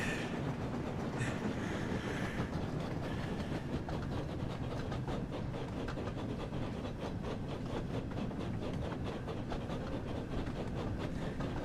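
A train rolls steadily through the Thomas & Friends Wonders of Sodor video game, a continuous rumbling run with faint rhythmic clatter and a brief higher squeal near the start, with no talking.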